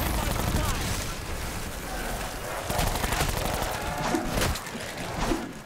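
Rapid gunfire from the Black Ops zombies mode in a pistol-and-knife-only challenge past round 35, with dense overlapping shots and bursts running continuously at close, loud level alongside other game noise.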